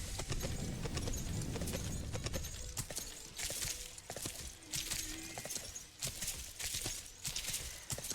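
Horse hooves clip-clop in the Sacred 2 video game, a run of light, even steps in the background with a few sharp clanks and game effects, no talking.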